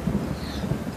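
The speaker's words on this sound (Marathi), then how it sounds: "आकाशामध्ये काळे तुप्त ढग जमा होऊ लागले आणि विजांचा कडकडाट ऐकू लागला" Thunder used as a storm sound effect, a low continuous rumble with a faint rain-like hiss above it, steady and unbroken throughout.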